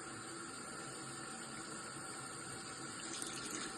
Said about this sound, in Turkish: Su ne sıcak ne soğuk ılık olacak. İyice geriye doğru yaslar Bu şekil durulama yapıyorum.